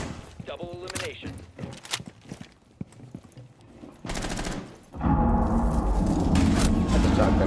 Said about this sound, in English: That's a shotgun.